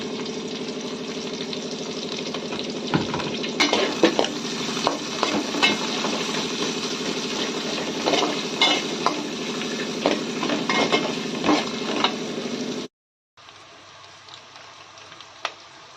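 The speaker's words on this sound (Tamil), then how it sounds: "இந்த வெங்காயமும் பச்சை மிளகாவும் நல்லா வதங்கிடுச்சு." Onions and green chillies sauté in a pan for spinach sambar made with ration dal, with a steady close sizzle and scattered stirring scrapes and clicks, then a brief silence and a quieter sizzle afterward.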